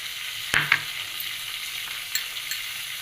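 Coriander seeds and fenugreek frying in hot oil for an Andhra-style dal give a steady bright sizzle, with two sharp crackles and clinks early on and a few lighter pops later. No one speaks.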